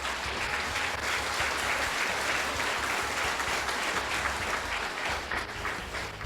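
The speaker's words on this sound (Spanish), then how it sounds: "Dale un aplauso a Jesús." A church congregation claps together in sustained, even applause that runs the full length, full and fairly close, with a low rumble of room noise under the hands.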